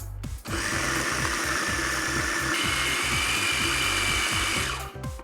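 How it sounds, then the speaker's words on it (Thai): A food processor whirs steadily, grinding a crab and shrimp filling seasoned with sesame oil and white pepper, running loud and continuous for several seconds before switching off. "บดให้เข้ากันก่อนครับ"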